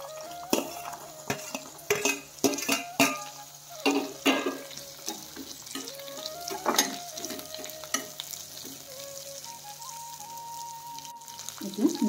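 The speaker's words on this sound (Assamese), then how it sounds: "এতিয়া মই কাটি ৰখা আমলখিখিনি দি দিছোঁ।" Chopped amla frying in a pan with garlic and spices, a close crackling sizzle broken by repeated sharp clinks and scrapes of a spatula against the pan, fairly loud and irregular, with no talking.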